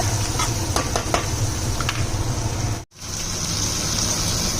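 Onion, curry leaves and tomato fry in a pan for Udupi-style Mangalore cucumber sambar, giving a steady, close sizzle with a few scrapes from stirring. A brief cut to silence falls partway through, and no one speaks.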